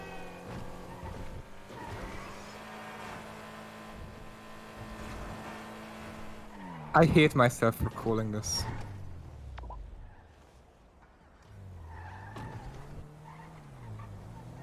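Racing cars in a video game race, including a slow Mesa, rev and drone along, then a burst of sharp tire squeals and skids before the engines settle again, with a commentator talking over them.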